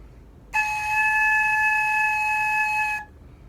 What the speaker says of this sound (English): Let's go ahead and try making a sound on the head joint now.